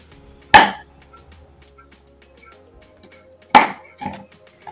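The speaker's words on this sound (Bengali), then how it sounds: "এখানে এই আমন্ড বাদামগুলো আমি একটু কুচি করে" A knife chops through almonds on a board at close range, two sharp distinct impacts with a smaller knock after the second, quiet pauses between them, no talking.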